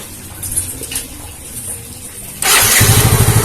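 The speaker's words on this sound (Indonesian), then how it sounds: "Sekarang kita coba lagi." A Yamaha Mio J scooter with a sputtering, hard-to-rev fault cranks and fires up near the end, shifting from quiet background rumble to a loud, close, steady engine idle.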